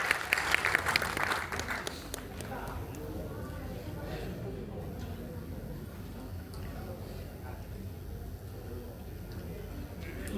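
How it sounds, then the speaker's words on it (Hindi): An audience applauds at a poetry gathering for a literary society's foundation day. A dense burst of clapping over the first two seconds fades into murmuring and voices in the room. "एक बार ताली बजा देते हैं"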